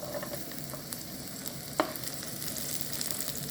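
Diced garlic sizzles in hot oil for a Chinese vegetable gravy, a soft steady hiss with faint crackles and one sharp tick partway through, heard alone without voices.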